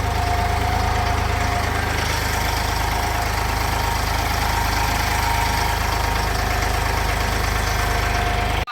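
A tractor engine runs steadily in a field during wheat sowing, carrying seed and fertilizer, a loud continuous low rumble and idle-like drone with a faint knocking throb, no voices.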